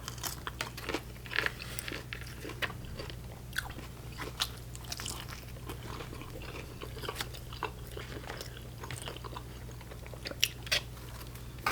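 Close, crisp bites and chewing of Papa John's pizza topped with pepperoncini, irregular crunchy clicks and wet mastication sounds repeating over a low steady hum, no talking.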